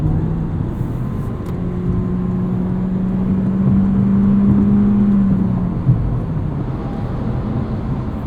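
Cabin sound of a 2021 Toyota C-HR Nightshade on 18-inch wheels taking a corner: continuous loud road roar with an engine tone that rises and holds for a few seconds before easing off, no speech.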